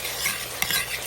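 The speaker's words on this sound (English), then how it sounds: "So I'm sauteing this stuff off with the butter." Food sautéing in butter in a Dutch oven on a stovetop gives a close, steady frying sizzle with faint stirring scrapes and one small clink.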